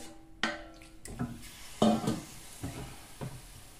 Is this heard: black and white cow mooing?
no